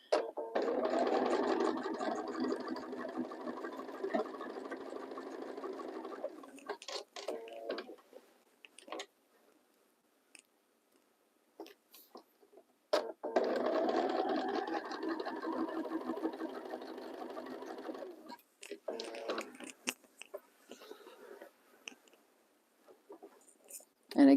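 A sewing machine stitches romper fabric in two long runs of steady whirring, close and fairly quiet, with clicks and handling noises in the pauses between.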